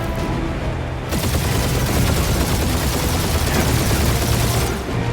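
Sustained dense gunfire in the Guardians of the Galaxy video game, loud continuous bursts and booms filling the whole stretch with faint voices underneath.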